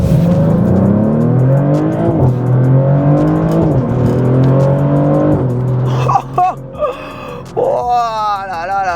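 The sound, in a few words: Maserati GranTurismo Trofeo engine accelerating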